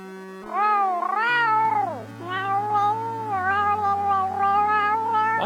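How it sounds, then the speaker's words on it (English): Cat meowing in Gold Rush, a 1988 Amiga game, rendered as a synthesized series of long, wavering pitched meows that bend up and down over a stepping low bass line, loud and continuous. "I think you guys heard the kitty cat meow meow meow"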